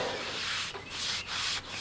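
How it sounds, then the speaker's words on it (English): Close, rhythmic rubbing strokes of a rag wiping dust off a sanded epoxy resin surface, three sweeps with brief pauses between them, quiet and without speech. "just wipe off whatever dust is on there, help keep it clean."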